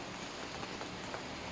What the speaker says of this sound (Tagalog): medyo malakas yung ulan.